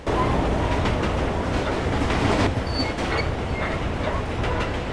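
A late-night subway train running along the track, a loud continuous rumble with rhythmic clickety-clack wheel knocks and occasional faint metallic squeals.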